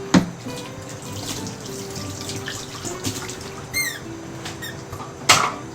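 Tap water runs into a kitchen sink while an item is washed, a steady close splash with small clinks and knocks, a few squeaky scrapes, and a sharp bump near the end, no voices.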